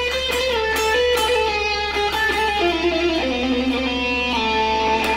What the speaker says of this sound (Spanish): si estoy en la escala armónica de la, que suena algo así